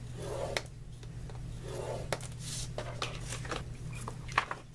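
Paper being scored on a 9-inch side at half-inch and 4 3/4-inch marks for a mini album, giving soft rubbing, rasping strokes with a few sharp ticks over a steady low hum, fairly close and quiet, with no talking.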